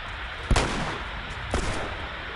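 Gunfire aimed at the Bloater in The Last of Us, in the high school gymnasium: two loud, sharp shots about a second apart over a steady ambient hum.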